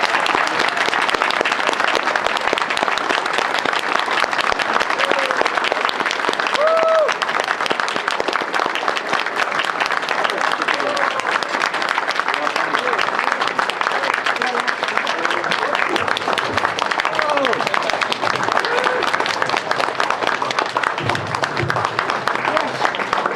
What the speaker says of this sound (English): Let's give these men a round of applause.